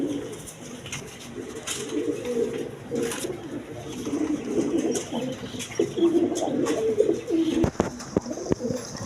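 A pair of pigeons kept for sale in a bird market coo in low, repeated murmurs against soft background bustle, with a few sharp clicks and knocks toward the end.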